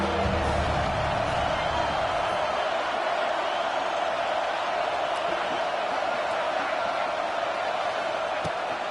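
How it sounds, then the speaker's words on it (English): Ohio State Buckeye football crowd cheering on third down, a dense continuous roar filling the stadium, loud and steady throughout. "Hang on, Swoopy, the Buckeye crowd alive on third down"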